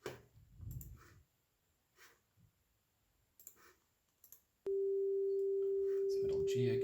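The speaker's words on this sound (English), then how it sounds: "It's middle G again. And 523 hertz or C5." A steady 523 Hz C5 test tone is played through BJT amplifier filters and holds as a loud, pure, unbroken hum after a stretch of quiet talking and clicks.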